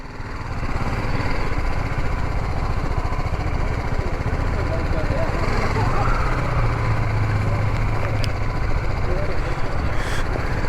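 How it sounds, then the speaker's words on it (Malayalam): A steady, droning buzz of a small drone's rotors hums continuously at close range over a village in Chitrakonda, Odisha, loud and unchanging throughout. "നാട്ടിലെ ആദ്യത്തെ ഡ്രോൺ"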